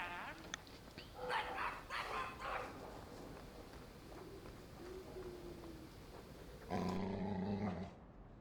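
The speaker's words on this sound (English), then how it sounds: "Something up with my dog?" A dog growls and barks inside the player's home in the video game Dragon Age 2, with rough bursts early on and a louder, sustained outburst near the end, all fairly quiet overall.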